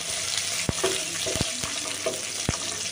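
Cashews and washed raisins fry lightly in oil in a pan, a steady close sizzle broken by several sharp clicks of a spoon stirring against the vessel.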